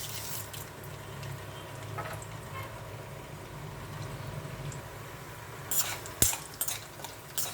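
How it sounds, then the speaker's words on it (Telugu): Tempering seeds dropped into hot oil with garlic in a kadai while making cucumber curry, a soft steady sizzle with light stirring and a few sharp clinks of a spoon against the pan near the end. "మరి కళాయి పెట్టానండి, ఆయిల్ వేసాను, ఎల్లుల్లిపాయలు వేసాను, ఏగుతుని ఇప్పుడు తాలింపు గింజలు వేస్తున్నాను"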